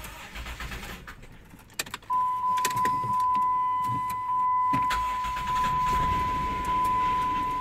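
A Chrysler Town & Country minivan with a replaced engine is keyed on, rattling keys and sounding a steady chime tone, then its engine cranks and catches, settling into a rough, uneven idle close by.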